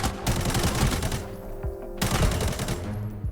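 Gunfire in the video game Arena Breakout: two loud close bursts of rapid automatic shots, the first cutting off early and the second starting about two seconds later, with ringing tails between.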